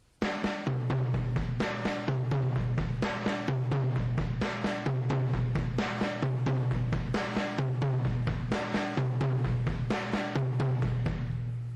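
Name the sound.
drum kit paradiddle with doubles on tom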